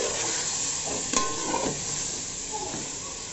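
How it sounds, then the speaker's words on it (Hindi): Marinated mutton is stirred and fried in a pan, giving a steady dense sizzle with several scraping strokes of a spoon moving through the meat. "तो हम इसके अंदर जो मैरिनेट करके रखे हैं वो डाल देते हैं। इसे एक बार अच्छी तरह से मिक्स कर लेंगे।"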